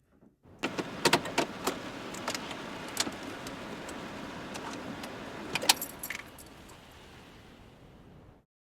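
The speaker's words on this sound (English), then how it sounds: "you can hear the keys turning the engine off on the car" Car keys jangle and rattle in the ignition with sharp metallic clinks over a low idling engine, which then shuts off and fades to silence.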